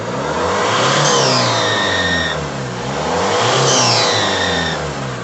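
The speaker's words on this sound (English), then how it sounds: "It's got a massive leak from somewhere. It sounds like a manifold leak." A Peugeot Boxer 2.2 van engine with a manifold leak runs close by, a loud rough drone with hissing, rising and falling twice as it is revved.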